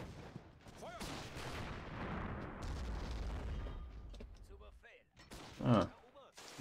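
Gunfire in the war game Real Warfare, a few distant cracks and booms scattered across the clip, with a louder burst near the end, alongside someone talking.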